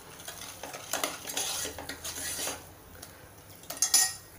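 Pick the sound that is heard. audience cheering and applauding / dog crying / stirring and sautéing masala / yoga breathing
stirring and sautéing masala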